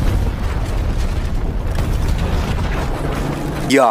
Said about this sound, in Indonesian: sebuah truk sampah mendobrak rumah Michael